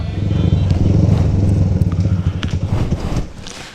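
A motorcycle engine runs loud and close, a steady low rumble with rough pulsing throughout and a few faint higher clicks on top, easing off slightly near the end.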